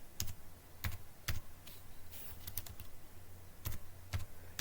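Someone types HTML code on a computer keyboard, producing sparse, distinct key clicks in irregular bursts against a quiet room background.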